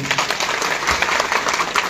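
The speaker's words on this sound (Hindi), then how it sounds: "उनके लिए मैं जोरदार ताली चाहूंगा" A crowd breaks into dense, loud applause at an election rally in Amarwara, a steady wash of clapping with no pauses.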